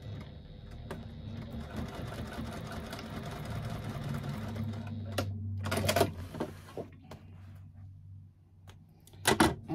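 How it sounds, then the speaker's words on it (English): A sewing machine stitches across the bottom of a piece to attach two rope connectors, running as a steady close whirring hum for about six seconds before stopping, with a few clicks and handling knocks afterward. "I'm going to stitch across the bottom."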